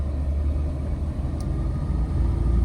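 A car driving through narrow lanes gathers speed with a steady low engine rumble and road noise heard from inside the cabin, the drone holding constant and slightly swelling toward the end.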